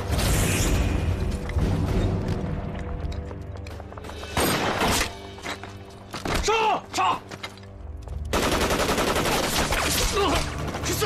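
Dense gunfire rattles through a war film battle scene, with continuous loud bursts and booms that briefly thin out midway before the full barrage returns.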